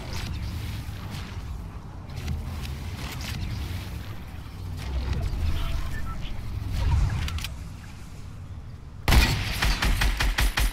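Gunfire from Fortnite gameplay: scattered sharp shots through a busy in-game mix, then a dense, loud burst of rapid firing near the end.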